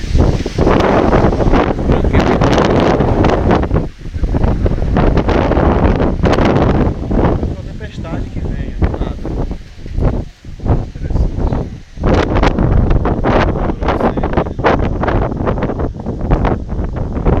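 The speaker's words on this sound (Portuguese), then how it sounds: "E muito vento" Strong wind blows outdoors in Kumasi, Ghana, roaring loudly across the microphone in sustained gusts with brief lulls, buffeting constantly from start to finish.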